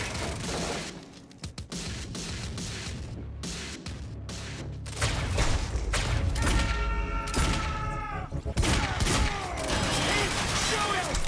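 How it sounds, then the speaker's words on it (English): Enemy gunfire in the game Quantum Break: rapid bursts and scattered shots crack repeatedly, loud and close, with dense impacts and mechanical noise between them and voices shouting over the shooting. "Why are they still shooting?"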